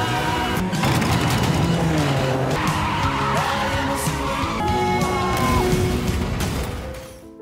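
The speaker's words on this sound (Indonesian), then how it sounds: "mobil Bok-nam ditabrak dari samping dan mengakibatkan mobilnya terbalik" Film scene of a car struck from the side and flipping over during a chase, loud continuous tire skidding and engine roar with squealing and crunching metal, fading away at the end.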